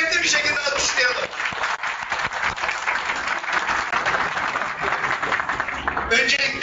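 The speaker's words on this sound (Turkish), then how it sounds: "Üsküdar Belediye Başkanımız Hilmi Türkmen Başkanımızı kuvvetli bir şekilde alkışlayalım." Applause for the mayor of Üsküdar at a confederation founding event in Istanbul, with a crowd clapping strongly and steadily while a voice speaks over it.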